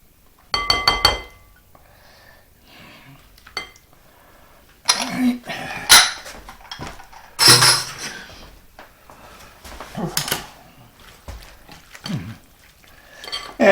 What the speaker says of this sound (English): let's just go ahead and mix it together